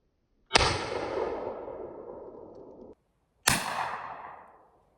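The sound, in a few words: Winchester 1897 trench gun firing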